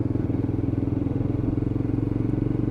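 A Lexmoto LXR 125cc Euro 5 motorcycle is ridden, its small single-cylinder engine giving a steady, rapid thrumming pulse that stays loud and close throughout, with no talking.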